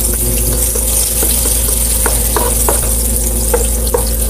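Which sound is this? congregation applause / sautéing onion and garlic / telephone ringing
sautéing onion and garlic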